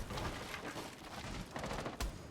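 Gunfire rattles in Rainbow Six Siege during an esports playoff match, bursts of rapid shots with a sharp loud crack near the end, heard alone at moderate distance.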